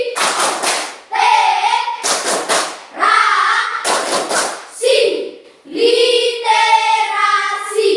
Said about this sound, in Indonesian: marilah kita bersama tepuk literasi